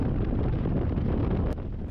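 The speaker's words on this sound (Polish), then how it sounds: "Ale wiatr to dzisiaj tak wieje" Strong wind roaring and buffeting the microphone, a continuous low rumble with gusty fluctuations.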